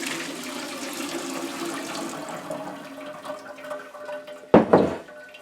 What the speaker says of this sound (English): So I'm going to drain that out.